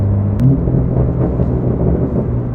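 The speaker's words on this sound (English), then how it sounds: "As soon as I click this button, it really opens up the drama. You can hear that change." A BMW G80 M3 with a Valvetronic Designs exhaust, valves open, gives a loud, deep, steady rumble close by, with a short sharp crack early on.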